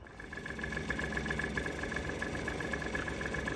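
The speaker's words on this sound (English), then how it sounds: "So here is a video of the bike running." A Yamaha TZR 50 motorcycle engine runs steadily at idle, a continuous buzzing two-stroke drone with a faint high whine, moderately close and alone without talk.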